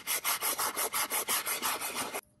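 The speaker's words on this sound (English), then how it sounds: "Agitate it with a soft brush." A soft brush scrubs rapidly back and forth on a white Tesla leather seat, roughly a dozen even, close strokes in a steady rhythm, then stops abruptly.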